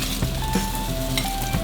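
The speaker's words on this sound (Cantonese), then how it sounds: "首先落啲油，就炒個腸仔先。" Sausage fries in hot oil in a wok while making pineapple fried rice, giving a continuous close sizzle broken by a few light scrapes and clinks of stirring.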